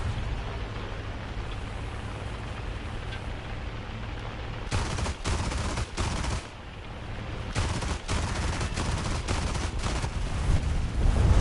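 Gunfire in the War Thunder video game, with a steady roar giving way to bursts of rapid automatic fire in several close, loud volleys, no talk.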